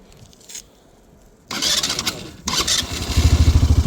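A small scooter-type motorcycle with a variator transmission starts up after scraping and cranking sounds, then its engine catches and settles into a close, loud, rhythmic putter.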